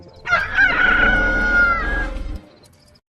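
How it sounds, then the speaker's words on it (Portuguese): A rooster crows once, loud and close, a long drawn-out cock-a-doodle-doo with a strained, wavering middle, fading into a quiet tail. No one talks over it. "E no mesmo instante o galo cantou."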